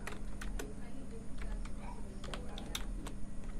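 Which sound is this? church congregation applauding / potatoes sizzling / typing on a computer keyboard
typing on a computer keyboard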